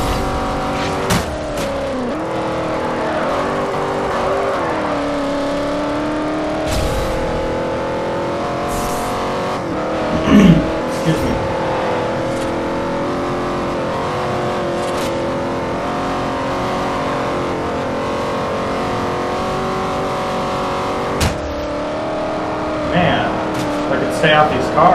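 A 1957 Chevy Bel Air custom in Forza Horizon roars at sustained high revs for a long stretch, with engine pitch rising and falling between shifts, occasional tire squeal, and someone talking over it.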